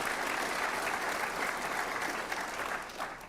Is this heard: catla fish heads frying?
no